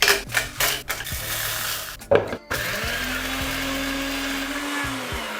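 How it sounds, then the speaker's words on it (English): An electric blender grinds toasted whole spices, starting in short choppy bursts and then settling into a steady, close whirring hum. No voices are heard. "Always toast the spices before you blend them."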